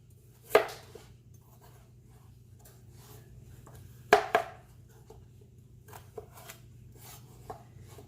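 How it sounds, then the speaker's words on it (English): Knife cutting a sweet potato into wedges on a cutting board: two sharp close chops several seconds apart, each with a quick second knock, then lighter scattered taps, over a low steady hum. "And then you want to continue cutting until you have all of your sweet potato in wedges."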